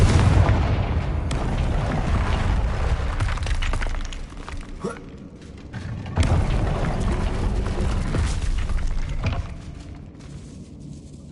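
Confringo spell blasts from Hogwarts Legacy go off as loud booming explosions with a shattering crackle, two strong bursts set apart by a brief lull and trailing rumble.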